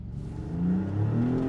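A Maserati MC20 Cielo supercar pulls away on canyon roads, its mid-range engine note rising steadily as it accelerates over a second and a half, close and fairly loud with no voices.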